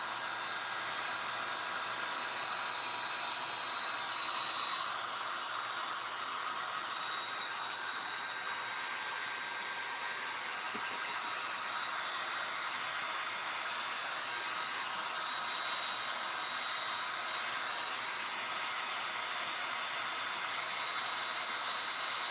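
A hair dryer drying paint on thrifted furniture gives a steady, even whir with a constant high airflow hiss that runs unbroken throughout, close by and alone.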